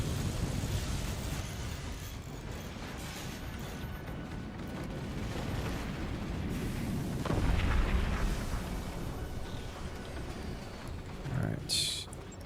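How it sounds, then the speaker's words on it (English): A howitzer is destroyed in the artillery game Forts: deep rumbling battle noise builds into a heavy explosive burst partway through, then another sharp blast near the end, with a voice talking over the din. "I believe that's the destruction of the howitzer."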